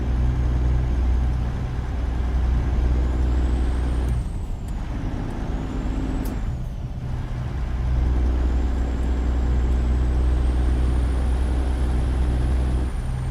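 A Peterbilt 379 truck in a driving video game idles with a steady low engine drone and a rising and falling turbo whine, broken twice by sharp hissing air brake releases.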